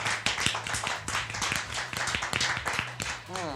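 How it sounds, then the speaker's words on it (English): Audience clapping at a live comedy talk show, a steady run of sharp, close hand claps with some voices mixed underneath, ending in a short whistle-like sweep. "Keep the claps."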